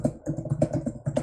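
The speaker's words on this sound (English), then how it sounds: "We don't want to hear your typing." Rapid typing on a computer keyboard picked up by an open microphone during an online match, a close, uneven patter of key clicks with no speech.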